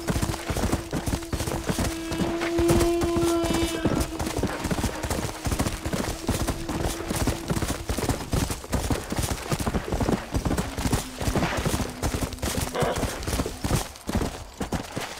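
Horse hooves trotting in Red Dead Redemption, a steady, even clip-clop running close and loud throughout, with a sustained musical tone and other game sounds underneath.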